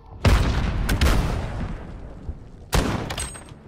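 Shotgun blasts in the video game Call of Duty Modern Warfare, three heavy booming shots at uneven intervals, each with a long rumbling decay, loud and close with no talk over them.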